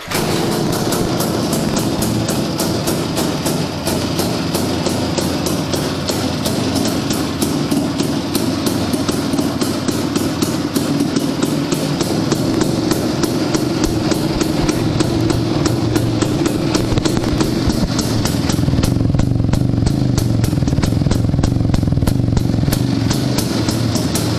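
An IZh-350 motorcycle engine that has just been restored runs after the ignition is switched on. It gives a loud, continuous, rapid two-stroke rattle close by for the whole stretch, with no talk over it.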